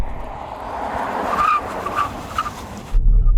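A Volvo EX90 electric SUV brakes hard on a wet, slightly damp road, giving a brief tyre squeal and skid over steady road roar, followed by a louder low rumble as the car settles.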